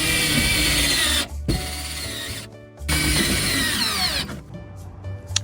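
A power drill drives self-tapping screws through a metal patch on a car floor, with three whirring, grinding bursts separated by short pauses, loud and close.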